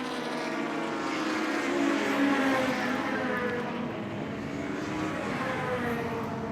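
A Peugeot Super Touring race car passes at Goodwood, a loud, high-revving engine drone that swells as it nears, then shifts pitch and fades slightly as it goes by.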